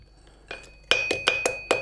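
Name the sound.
hammering metal with small hammer, forging steelyard scale part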